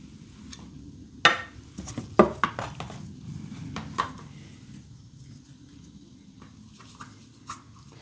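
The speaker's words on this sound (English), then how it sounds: "Now we're going to cut the eggs in half and put the yolks in here." A knife slices peeled, chilled boiled eggs in half on a kitchen surface, giving a series of sharp taps and light clinks spaced irregularly, close and fairly quiet, with soft handling noise in between.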